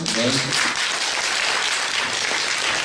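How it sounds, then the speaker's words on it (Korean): An audience claps together at a forum in Korea, a dense, even burst of applause, close and loud, with a brief voice at the start. "모두 박수로 환영해 주시죠"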